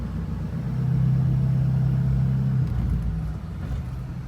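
A vehicle being driven out of a lot and parked, a low steady engine rumble that swells, holds near and then eases off.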